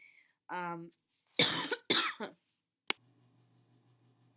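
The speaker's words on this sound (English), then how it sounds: "sorry I had to pause there for a coughing fit" A short burst of harsh coughs, three or four loud hacking bursts close to the microphone, followed by a sharp click and faint background hum.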